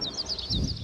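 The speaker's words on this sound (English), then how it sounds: "That's the seagulls again." Seagulls on a music recording, a run of quick high calls repeating in a rhythmic series over a low ambient rumble that thickens toward the end.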